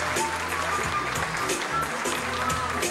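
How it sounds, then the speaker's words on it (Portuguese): Faint, distant applause from an audience welcoming Fafá onto a stage at an anniversary celebration at Pousada do Rio Quente, a steady patter of many hands with no voices on top. "uma salva de palmas para Fafá"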